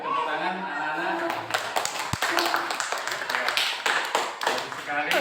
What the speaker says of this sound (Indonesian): Kasih tepuk tangan anak-anak.